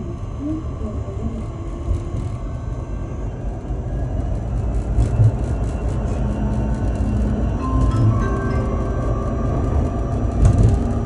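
A Wuyi tram on Line 1 in Fujian pulls away and runs, its low rolling rumble and rail noise building steadily for about eleven seconds, with a voice heard over the ride.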